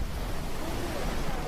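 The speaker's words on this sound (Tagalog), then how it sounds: "Wow, dagat!" Sea waves washing on a shore, a steady broad rushing surge that stays even and fairly close throughout, mixed with some wind noise and no voices.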